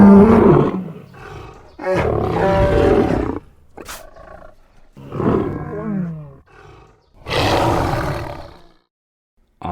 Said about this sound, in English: Finally, time to add the breath elements in there that I took from the tiger.